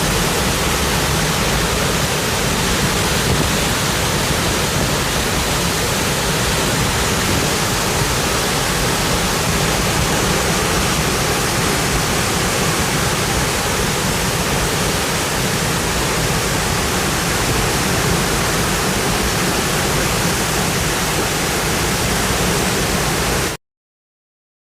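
Floodwater from the overflowing Adour River rushes through streets, a steady, dense roar of turbulent water that stays loud and unbroken throughout before cutting off abruptly.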